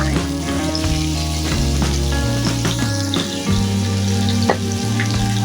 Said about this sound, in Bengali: কুমড়ো গাজর থেকে আমি একটু তেলের মধ্যে ভেজে নেব